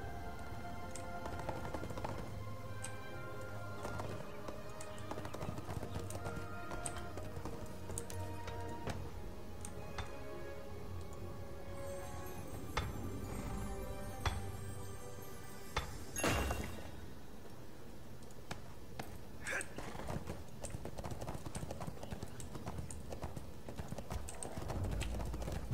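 Horse hooves clip-clop steadily in the video game ArcheAge, a continuous rhythmic trotting at moderate loudness with faint ambient game sound underneath and no talk.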